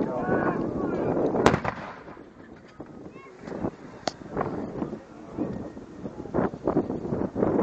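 A 25 lb howitzer field gun fires, a heavy booming shot with sharp cracks among rumbling, wind-buffeted outdoor noise and what sounds like voices around it.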